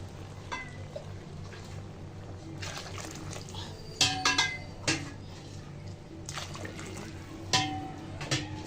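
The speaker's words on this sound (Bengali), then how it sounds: "তো চালটা আমি ভালো করে মাংসের সাথে ভেজে নিয়ে এসেছি। এখন দিয়ে দেবো পানি।" Water poured from a mug into a pot of rice fried with beef for tehari, with metallic clanks of the vessel and utensils striking the pot over a soft background hum.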